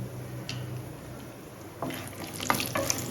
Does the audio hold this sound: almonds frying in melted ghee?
yes